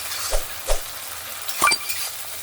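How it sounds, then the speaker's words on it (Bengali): Tomatoes and onions fry in a pan, a steady close sizzle broken by a few light clinks and scrapes of a utensil stirring. "টমেটো আর পেঁয়াজগুলো একদম সুন্দর লাল লাল করে একদম ভেজে নিয়েছি।"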